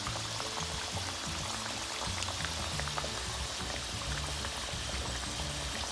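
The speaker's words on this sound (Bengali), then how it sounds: "এইভাবে ক্রিস্পি গোল্ডেন ব্রাউন করে ভেজে নিতে হবে।" Mughlai paratha frying in hot oil until crispy golden brown, a steady close sizzle and crackle without pause.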